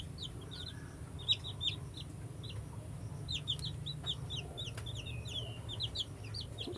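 Day-old chicks, hatched under a hen and kept without brooding, peep in rapid, scattered high chirps throughout, fairly close, over a steady low hum.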